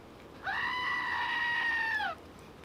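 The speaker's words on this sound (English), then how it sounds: "I would have to give this a resounding 1 screaming goat" A screaming goat sound effect: one loud, drawn-out bleating scream lasting under two seconds, close and clear against a quiet background.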